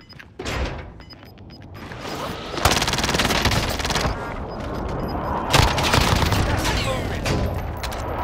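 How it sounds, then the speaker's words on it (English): Rapid bursts of gunfire from the video game Call of Duty: Modern Warfare, loud and sustained, with booming shots and clattering automatic fire that swell and stack over several seconds. "Is that you shooting him?"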